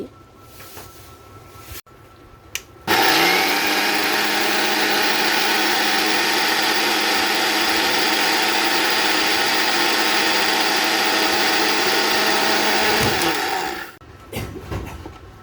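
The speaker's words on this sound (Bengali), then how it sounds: "ব্লেন্ডারে গুলো এখন গুঁড়া করে নিমু" An electric blender grinds black gram (mashkalai) dal into powder, a loud, steady motor roar that starts abruptly, runs for about ten seconds and then winds down.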